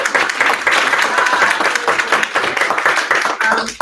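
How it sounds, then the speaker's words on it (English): At a gaming pitch competition, the crowd breaks into loud, close applause for the presenters, with thick, continuous clapping that stays strong throughout. "can we please give a huge round of applause for our judges, Tom, Karina, and Derek"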